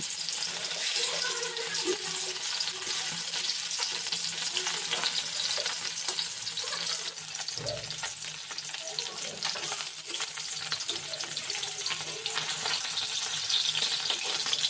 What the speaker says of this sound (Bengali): তেল গরম হয়ে গেছে এবার আমি মাছগুলোকে ছেড়ে দেবো আস্তে আস্তে করে মাছগুলোকে ছেড়ে দিচ্ছি